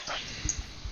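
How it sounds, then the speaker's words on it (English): A dog barks and whimpers indoors in short yelping bursts, brief low thumps and a faint whine, fairly close but not loud, with no one talking during the moment. "my dog's going crazy"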